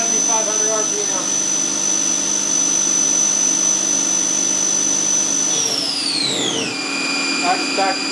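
Bridgeport Torq Cut 22 milling machine spindle spinning at 7,500 RPM, a steady loud high-pitched whine with mechanical hum that then glides downward in pitch as the speed drops.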